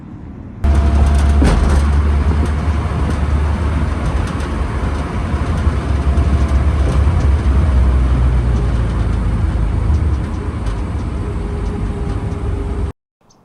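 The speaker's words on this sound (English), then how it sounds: "The E36 is out in the wild. It's actually driving around under its own power" A 1999 BMW E36 323is driving under its own power, a loud, steady engine drone with road rumble heard from close by for about twelve seconds before cutting off abruptly.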